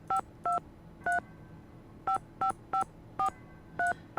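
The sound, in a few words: cell phone dialing in video game Nancy Drew: The Phantom of Venice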